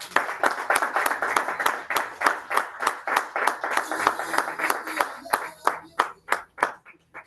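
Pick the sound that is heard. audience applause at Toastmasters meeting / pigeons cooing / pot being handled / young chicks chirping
audience applause at Toastmasters meeting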